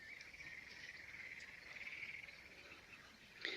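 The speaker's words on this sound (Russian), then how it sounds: "Ух ты, как расквакались лягушки" Dense chorus of frogs croaking in a village setting, a steady continuous trilling drone at moderate distance with no talk over it.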